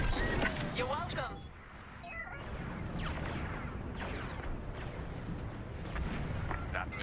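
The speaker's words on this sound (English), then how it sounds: "That missile made contact. The convoy is getting hammered." Missile explosions boom and whoosh as a convoy is hit during a Star Wars: Squadrons space battle, several rumbling blasts over a few seconds with a voice talking over them.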